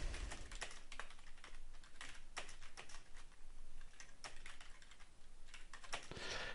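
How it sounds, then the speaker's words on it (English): Rapid, uneven keystrokes clatter on a computer keyboard as translation text is typed, close and fairly quiet, with no speech. "So again, I can start typing the translation."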